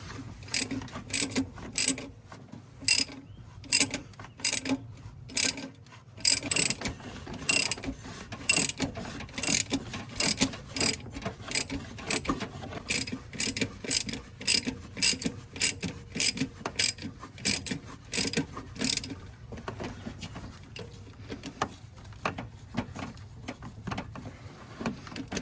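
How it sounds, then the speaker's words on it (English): A 3-jaw puller drawing the crank pulley damper off a 2006-10 Dodge Charger 5.7 V8, heard as a long run of rapid ratchet clicks in steady bursts with brief pauses, close and fairly loud. "got my 3-jaw puller on here"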